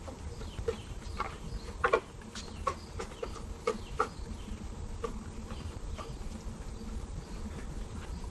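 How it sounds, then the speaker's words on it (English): Birds chirp outdoors in short, scattered calls against a quiet background hum, with no voices. "I love the sound of those birds."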